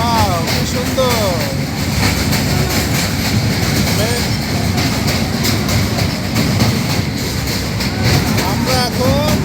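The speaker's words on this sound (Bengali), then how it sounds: "রূপসা ট্রেনে হাটিস ব্রিজ ওপর দিয়ে যাইতেছি" The Rupsha train crossing the Hardinge Bridge, heard from inside as a loud continuous rumble with rhythmic wheel clatter and screeching rail squeals, while people talk over it.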